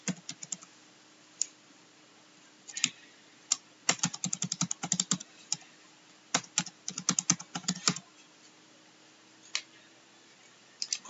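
Keys on a computer keyboard are tapped in short irregular bursts, close and fairly quiet, as a password is entered during a CentOS 7 setup in VirtualBox.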